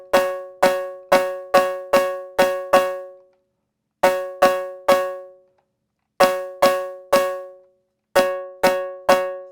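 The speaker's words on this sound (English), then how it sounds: "Sort of gives it a little bit of a snare sound." Snare-like synthesized drum hits from a Nord Drum 3P fire in quick, evenly spaced groups of six, three, four and three, each a sharp pitched attack with a ringing, metallic decay, loud and alone with short silences between groups.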